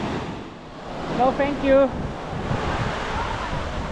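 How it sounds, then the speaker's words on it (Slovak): Ocean surf breaks steadily on a beach on Lombok, a continuous broadband wash of waves with wind noise; a short spoken phrase rises briefly over the surf near the middle. "A hneď tu sú vlny, takže pre začiatočníkov ideálne."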